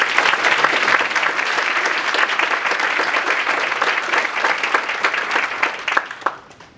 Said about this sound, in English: Give the Archbishop a great big round of applause